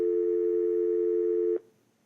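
A steady, loud dial tone hums from the speakerphone of a Panasonic KX-TGM450S cordless phone base, holding evenly for about a second and a half before cutting off abruptly.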